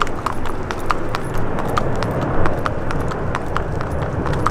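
A horse ridden in the arena at Horse of the Year Show, its hooves clip-clopping in a steady, even rhythm close by, with only faint background noise.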